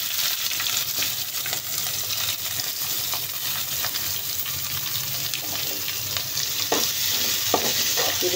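Chopped onions and green chillies frying in oil for shark curry, a steady close sizzle with occasional stirring scrapes and clinks in the pan.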